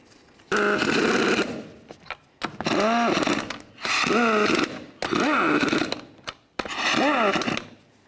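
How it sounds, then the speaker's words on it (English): Wheel lug nuts run onto a Ford Ranger front hub with a power tool, heard as five close, loud whirring bursts of a few seconds each, separated by brief pauses. "Now I'm going to start all the lug nuts on there, we'll snug them up"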